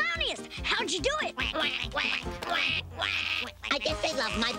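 Ducks in a cartoon quack in a rapid run of nasal calls, jumbled together with animated character voices talking over them.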